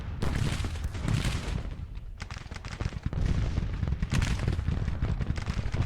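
Repeated booms and cracks of Civil War cannon and musket fire in the strategy game Grand Tactician: Civil War, a continuous rumbling barrage with overlapping bursts and no speech.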